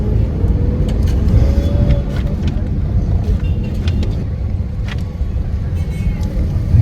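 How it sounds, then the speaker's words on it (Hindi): A car slowly pulling into a parking spot outside the Mangalnath temple in Ujjain, a steady low engine rumble close by with faint traffic and background voices throughout. "पार्किंग में लगाते हैं गाड़ी"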